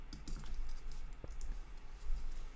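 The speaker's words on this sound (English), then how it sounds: "Danny is still typing." Quick, quiet clicking of a computer keyboard in an irregular typing rhythm during an online GeoGuessr match, heard close up and without any talk over it.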